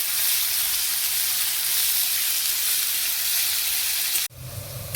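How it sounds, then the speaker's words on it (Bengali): Small diced potato pieces fry in a pan with a steady, loud, hissing sizzle that runs unbroken for several seconds, then cuts abruptly to a duller, lower rumble; no one speaks. "আলুটা একটু ভেজে নেবো ভালো করে"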